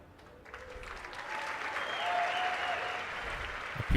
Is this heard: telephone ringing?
no